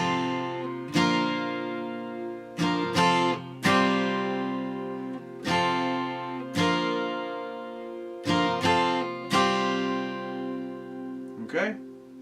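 Acoustic guitar strumming the chords of a song at a quick tempo, clear ringing strums in bursts with short gaps, played alone and close.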